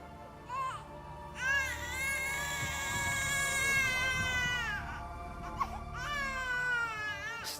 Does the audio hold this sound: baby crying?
yes